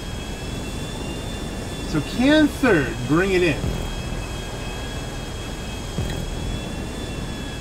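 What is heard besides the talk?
jet engine in video game GTA 5 Online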